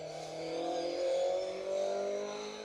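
A blue Escort rally car on a Mull Rally stage drives past with a steady engine drone that swells and eases slightly. It sounds moderately distant, with no voices.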